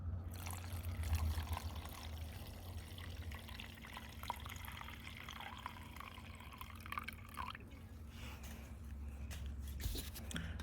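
Fluid is poured steadily from a container into a 1952 Farmall H tractor during restoration, a soft continuous trickle and slosh under a low engine-like hum, quiet and close.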